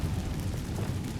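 Bombarda and Confringo spells exploding in the video game Hogwarts Legacy, a heavy, sustained low rumbling boom that fills the whole moment at steady loudness.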